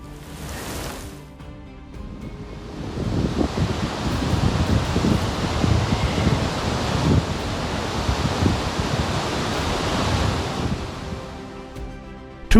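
Floodwater rushes through flooded streets in a broad, steady roar of churning, bubbling current that swells after a quieter start and holds loud and close to the end, with no voices.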